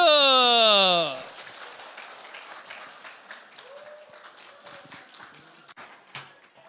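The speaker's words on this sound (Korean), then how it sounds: "하나 둘 셋, 목사님! 박수!" A Sunday church congregation shouts together in a loud unison call, then breaks into applause that quickly thins into scattered, fading claps.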